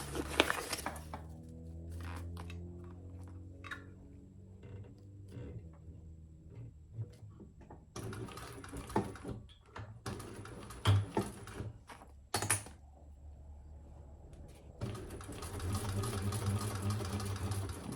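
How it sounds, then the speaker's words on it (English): A sewing machine stitches around the outside seam of a large crossbody sling bag, running in steady mechanical bursts with short pauses between runs, close and fairly quiet. "let's stitch around the outside."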